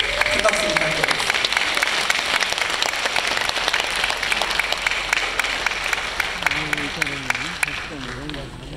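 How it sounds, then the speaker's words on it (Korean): Sustained audience applause fills a hall during a Korean Liberation Day 80th anniversary ceremony, with a speaker's voice heard over the clapping near the end. "큰 박수 부탁드립니다."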